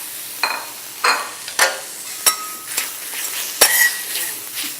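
Beef tenderloin steak fries in a hot pan with a steady background sizzle. A utensil stirs and scrapes against the metal several times, leaving sharp, irregular clinks spaced about a second apart, close by and without talk.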